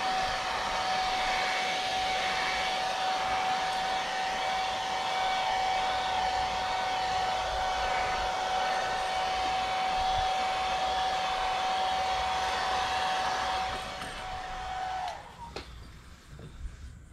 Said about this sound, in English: I'm going to turn this down even a little bit more on the compressor for this black because it'll come out pretty quick.